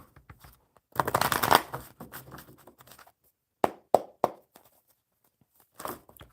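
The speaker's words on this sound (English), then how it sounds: "One more good shuffle." A deck of cards being shuffled indoors, with a long riffling burst followed by several shorter crisp ruffles and taps, close and fairly quiet, with no talk.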